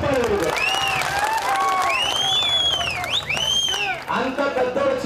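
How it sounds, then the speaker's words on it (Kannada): A crowd at a political gathering for an MLA in Chikkaballapur claps, with dense steady applause overlaid by loud rising and falling whistles and shouting voices throughout. "ಅದಕ್ಕೆ ನೀವೇ ಚಪ್ಪಾಳೆ ಹೊಡೆದು"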